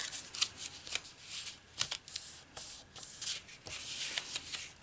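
Paper envelope sides are folded in by hand, producing close, crisp rustling and rubbing swishes in irregular bursts with brief creases and slides of the sheet.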